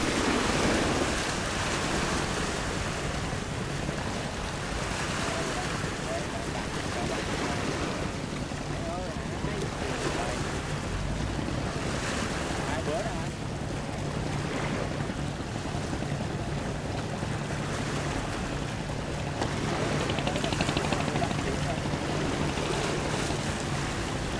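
Small boat out on the sea near the Ba Hòn Đầm island group in Vietnam, heard as steady engine drone and rushing water with waves and wind buffeting the microphone, continuous throughout, while someone talks over it.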